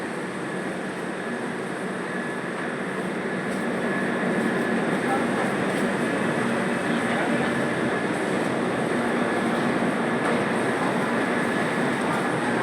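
A train moves through a railway station at night, a steady, loud rumble and hiss that holds evenly throughout with no clear talk over it.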